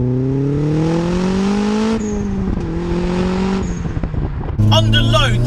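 A turbocharged Mazda MX5 accelerates hard on a B road, its engine note climbing steadily through the revs, dropping at a gear change, climbing again, then roaring louder near the end.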